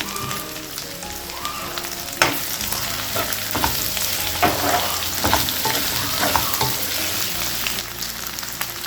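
Taro curry ingredients with turmeric are stirred in a sizzling pan, a steady crackle under repeated scraping and knocking strokes of a spoon, close and fairly loud.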